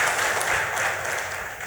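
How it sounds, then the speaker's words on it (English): An audience at a business summit's welcome address breaks into a short, brisk burst of applause, a steady clatter of many hands lasting under two seconds. "give them a congratulations and a welcome applause as well"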